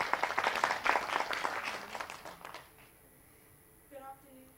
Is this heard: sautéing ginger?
no